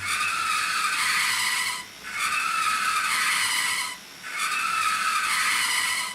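A fischertechnik robot's small electric motor running, controlled by a TXT controller, gives a steady high whir in three long stretches separated by brief dips, fairly loud with no talk.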